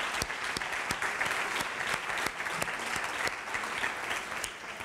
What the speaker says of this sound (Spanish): un aplauso también para todos ellos